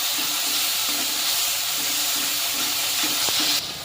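Cumin and coriander powder masala frying in a pan with ginger-green chilli paste, a dense continuous hiss and sizzle with faint intermittent stirring taps, fairly loud and close throughout.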